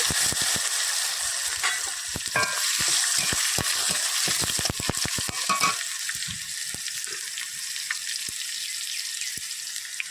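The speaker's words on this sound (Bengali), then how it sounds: "দিয়ে দেবো জিরে, দিয়ে দেবো টমেটো কুচি" Cumin and chopped tomato frying in hot oil, a loud continuous sizzle with bursts of sharp crackling pops in the first half that settle into a steadier, softer hiss with occasional spits.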